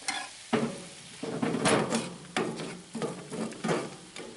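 Rice flax seed pasta sizzling and crackling in a frying pan on a grill, with bursts of stirring or scraping that rise and fall every second or so.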